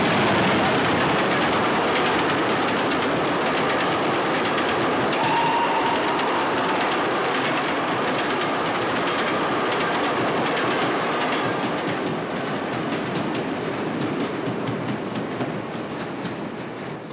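A steam-era passenger train rolls into a 1940s railway station, a loud continuous rumble and rattle of carriages with faint clickety-clack, holding steady and then easing slightly toward the end.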